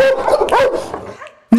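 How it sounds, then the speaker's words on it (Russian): A German shepherd police service dog gives sharp, excited vocalizations close by, with whimpering tones mixed in, a brief pause, then one loud bark at the end. "Немецкая овчарка по кличке Сандера своего хозяина увидела еще издалека"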